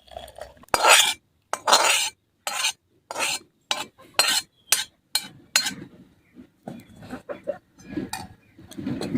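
Cooked vegetable curry being scooped out of a pot over a wood-fired chulha on a farmhouse, with a run of close, rhythmic metal spoon scrapes and clinks, irregular bursts separated by brief pauses.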